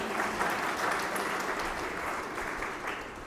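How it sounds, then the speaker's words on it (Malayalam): A congregation at a Christian spiritual growth retreat claps together in sustained applause, a dense, even wash of many hands filling the hall at steady loudness from start to finish. "കൈയടിച്ച് കർത്താവിന് നന്ദി പറയാം."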